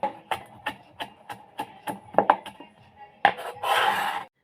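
Garlic being chopped for chicken adobo aromatics: a dozen crisp knife knocks in a fairly regular rhythm, some doubled, ending with a brief scraping sweep of the blade.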